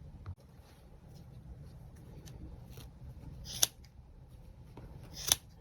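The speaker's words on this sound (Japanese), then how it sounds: "間にハサミを入れて、この輪っかを切っていきます。" Scissors snipping through a loop of yarn on a crocheted earflap hat, two sharp close metallic clicks spaced a couple of seconds apart over a faint quiet background, with no voices.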